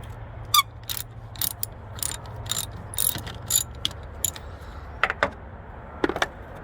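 A ratchet wrench loosens the 10 mm negative battery terminal screw on a 2001–2007 Dodge Grand Caravan, giving quick bursts of close metallic clicking in uneven spurts over low background hum.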